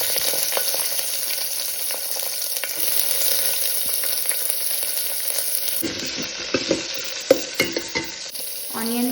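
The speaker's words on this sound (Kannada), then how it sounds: "ಆನಿಯನ್ ಫುಲ್ ಫ್ರೈ ಆಗಬೇಕು." Onions frying in hot oil with mustard seeds and cumin in a pan, a steady loud sizzle with stirring scrapes that grow more distinct toward the end.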